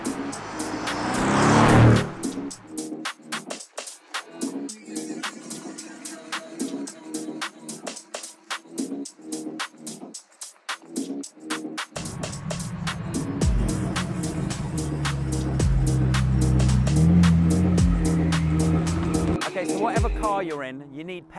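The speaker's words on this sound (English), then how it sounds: "we're gonna be taking the AMG GTR PRO and we're gonna be chasing a McLaren Senna" A Mercedes-AMG GT R Pro driven hard behind a McLaren Senna, engine revving up and down through rapid gear changes with a rasping exhaust, loud and close, and a deeper sustained drone later on.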